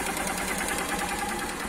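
A carbureted Honda Titan 150 motorcycle with its original exhaust and muffler runs steadily near the microphone, its dense, even engine drone holding constant with no voices.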